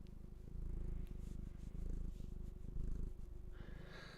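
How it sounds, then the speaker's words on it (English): Pet cat purring close up in a steady, continuous rumbling rhythm, fairly loud and alone with no talk over it. "You're purring."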